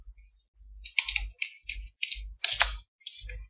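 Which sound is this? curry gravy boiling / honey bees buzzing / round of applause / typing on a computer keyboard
typing on a computer keyboard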